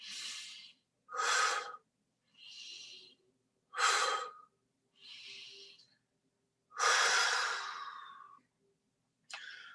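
Deep, slow breathing during a Buddhist puja for Lha Bab Duchen, with separate loud inhales and exhales of uneven length and silent pauses between them.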